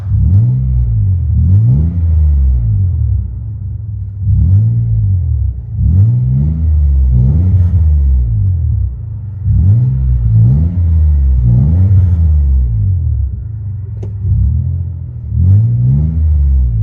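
Inside a 1995 Nissan Cedric, the 3.0L VQ30 24-valve V6 with DTM exhaust drones loudly, rising and falling through a series of repeated revs roughly every two seconds, with a deep rumbling cabin boom and no talking.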